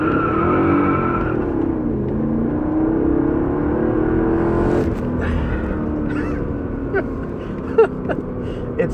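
A Mercedes AMG engine revs up and accelerates hard, its rising roar close and loud, then settles into a lower rumble with faint clicks.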